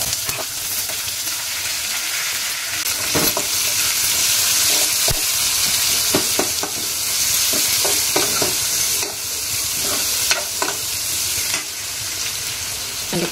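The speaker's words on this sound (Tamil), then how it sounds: "அதுக்கு தாளிப்பு போட்டுட்ருக்குறேன்" Tempering for goat head curry sizzles loudly and steadily in a hot pan, with dried chilli, curry leaves, onion and vadagam frying in oil, broken by repeated sharp stirring clatters throughout.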